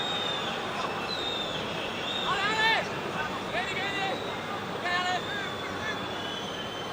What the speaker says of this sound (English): Deafening din inside the Olimpico has cost Roma a corner kick